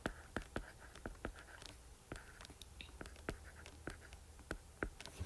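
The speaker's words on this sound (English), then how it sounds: "Hold on, let me erase this and rewrite it." Marker strokes on a board tap and scratch in quick, irregular bursts, close but quiet, with soft rubbing between them and no talking.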